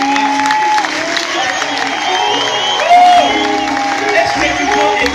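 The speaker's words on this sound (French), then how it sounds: "Est-ce que nous pouvons acclamer très fort?" Church congregation cheering and applauding at a French-language worship gathering, a loud, sustained mass of clapping, whoops and shouts, with voices and music mixed in.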